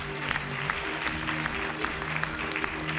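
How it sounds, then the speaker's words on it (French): Steady applause from a school audience at a junior talk on healthy eating and exercise, dense and sustained for the whole stretch, with a faint murmur of voices beneath the clapping. "Vous pouvez l'applaudir."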